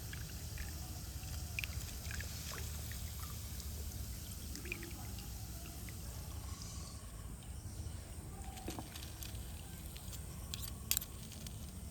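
Homemade jackfruit oil is poured through a strainer, a faint, soft trickle and patter with a few small clicks over quiet background hiss, no talking.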